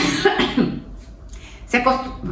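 A person coughs a few times, close and fairly loud, with a pause before a final harsher cough.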